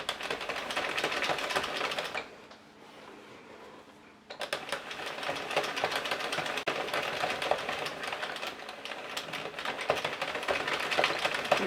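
An Addi Express knitting machine works soft yarn into a twisted headband, giving a steady loud clattering rattle that drops away briefly for about two seconds and then resumes continuously, with no talk over it.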